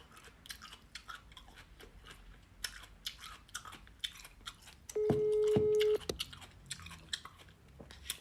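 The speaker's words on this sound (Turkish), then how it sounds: "Aşkım KFC yiyorum." Fried KFC food is chewed close to the mic in steady, crunchy, wet bites that repeat throughout, with a brief steady electronic phone tone cutting in about midway.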